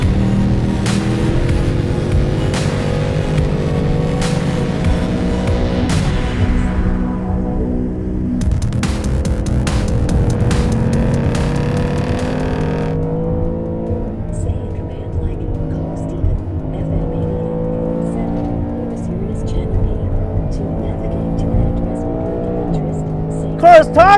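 A 2021 Ford Mustang Mach 1, bone stock, revs hard on a track and climbs through the gears, loud and continuous, with shifting pitch as it accelerates; a voice talks intermittently over it.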